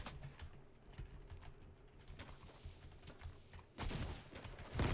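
Distant gunshots in a Fortnite Chapter 2 Season 2 match, scattered faint cracks amid game ambience, with a louder burst of noise near the end.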